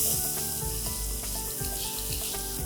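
Softened onion with salt and turmeric is stirred in a pan, giving a steady close sizzle with repeated scraping strokes of the spoon throughout.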